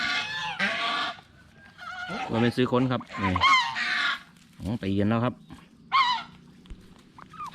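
Turkeys squabbling and courting near people, with harsh gobbling and squawking calls in short bursts while someone talks over them in Thai.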